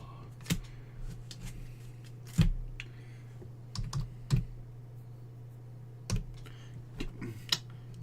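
Someone types on a computer keyboard in sparse, irregular bursts of keystrokes, fairly quiet over a steady low electrical hum.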